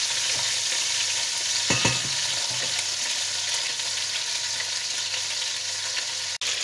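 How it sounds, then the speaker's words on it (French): Chicken pieces roast in a pot as the base for homemade poultry broth, giving a steady, loud sizzle throughout with a few stirring clatters near the start and no talking. "On laisse tout ça bien rôtir."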